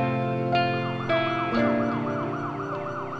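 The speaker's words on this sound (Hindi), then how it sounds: "एम्बुलेंस" An ambulance siren wails loudly and continuously, its rising and falling tone cycling steadily throughout with no voices over it.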